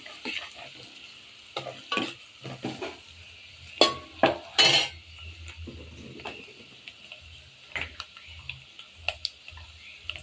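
A spoon scrapes and stirs a cooking mixture in a hot pan, with onion masala frying alongside puran lentil filling; irregular knocks and scrapes ring out close over a low, steady sizzle, with no voices.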